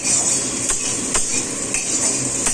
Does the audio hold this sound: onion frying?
yes